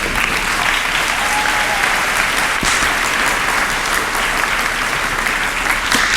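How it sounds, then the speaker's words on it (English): Sustained applause from an audience at a middle school graduation ceremony, dense and steady clapping filling the whole stretch with no break. "Clap, clap, clap, clap for the 8th graders."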